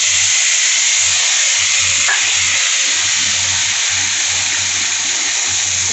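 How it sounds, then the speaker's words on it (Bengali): Potatoes sizzle and fry in a pan alongside already-fried katla fish heads, a steady dense crackle with faint low stirring taps, loud and close throughout with no talk. "আলুগুলো দিয়ে দিচ্ছি ভাজতে"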